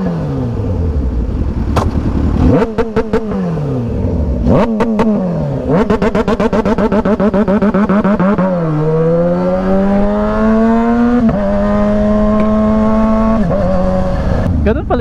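A motorcycle carrying a passenger launches hard with launch control, its engine revving loud and close in sharp repeated bursts and rising pitch sweeps that climb through the gears.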